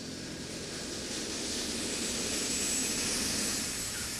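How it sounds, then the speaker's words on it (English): Private jet aircraft engine running, a steady broadband whine and roar with a thin high tone on top, fairly close and continuous, no voices. "A private jet is being prepped for a megastar."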